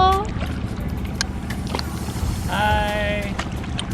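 Kayaks paddle through the water of Halong Bay, Vietnam, with soft splashes and paddle strokes under steady background noise while people talk and call out nearby.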